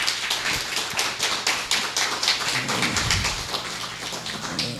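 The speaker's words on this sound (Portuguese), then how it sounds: "Vocês começaram a aplaudir" Congregation applauding in a church, a dense, steady wash of many hands clapping at close range, with a few heavier low thumps near the end.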